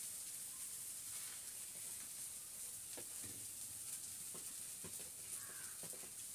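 Carrots and beetroot fry in a pan in a village-style Odisha kitchen, a faint, steady hiss of sizzling oil with occasional soft stirring scrapes.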